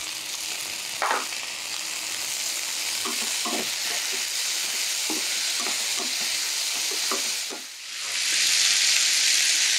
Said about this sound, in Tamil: இந்த வெண்டைக்காய் பாருங்கள் ஓரளவுக்கு ஃப்ரையாக இருக்குது. இப்போ இதோட தக்காளி சேர்த்துக்கலாம்.